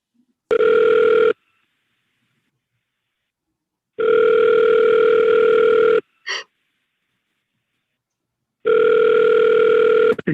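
A telephone call rings out in three long electronic tones separated by silence, with a brief faint sound between the second and third rings, before the call goes to an automated voicemail system.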